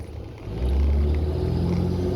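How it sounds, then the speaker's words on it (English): A tractor trailer truck passing close on the road, its deep low engine rumble swelling and holding steady as it goes by, heard alone without talking. "Driving those things that just went past, if you noticed, it was and here's another one, tractor trailer"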